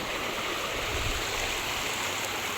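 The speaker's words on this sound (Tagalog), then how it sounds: "Napakaliit na po ng tubig ng sapa." A small creek running very low in the dry season, with shallow water trickling over its bed in a steady, close, continuous wash and no talking.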